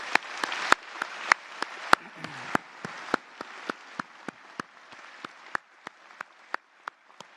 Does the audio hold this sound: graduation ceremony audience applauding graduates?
yes